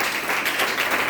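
An audience claps in warm welcome for guests at a seminar-style gathering, a continuous close burst of many hands that swells slightly midway, with no speech over it.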